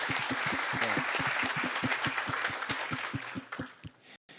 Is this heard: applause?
yes